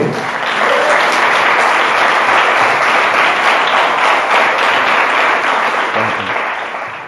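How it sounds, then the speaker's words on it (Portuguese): A church congregation applauds at a worship service, a loud, dense wash of clapping from a large crowd that holds steady before tapering off at the end. "Você pode aplaudir ele por isso?"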